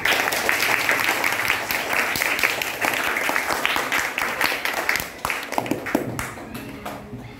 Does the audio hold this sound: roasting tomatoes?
no